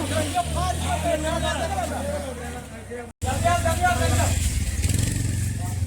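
A Royal Enfield Bullet motorcycle idles with a low, steady thumping engine note outdoors. A crowd of voices chatters loudly over it throughout, and the sound cuts out briefly midway.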